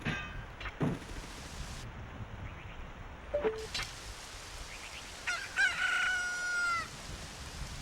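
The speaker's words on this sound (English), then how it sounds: "The underwater chicken always makes me laugh." Underwater chicken sound effect from Ocarina of Time, a distorted, warbling cluck and crow among game noises, with a few short squawks and a longer wavering call, moderately loud.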